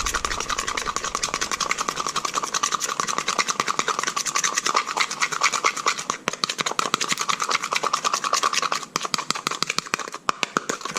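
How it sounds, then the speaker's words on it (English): Rice wine vinegar and sugar whisked into mayo in a bowl, a fast, steady rhythmic scraping and clicking of the whisk, close and continuous with no talk. "Take that. Whisk. This might take a little longer to fully incorporate."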